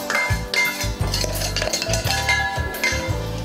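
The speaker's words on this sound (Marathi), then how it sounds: "दोन्ही बिस्किट मिक्स करून घ्यायचे." A bowl of crushed Marie and Oreo biscuits is being mixed for an eggless biscuit cake, with repeated close clinks and scrapes of a spoon against the bowl in an uneven rhythm and no talking.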